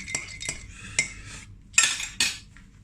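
Metal cutlery clinks against dishes while early morning coffee is made at a campsite, with several sharp separate taps followed by a louder burst of rattling and scraping, close by with no talk.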